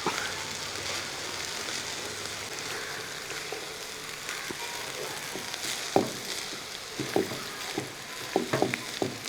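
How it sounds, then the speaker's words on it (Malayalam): Fried rice with vegetables is stirred in a pan. There is a quiet, continuous sizzle, and a few sharp scraping clicks from the spatula come near the end. No talking. "ഈ റൈസ് അങ്ങോട്ട് ഇട്ട് കൊടുക്കുക ഇനി ഒന്ന് ഇളക്കി കൊടുക്കും"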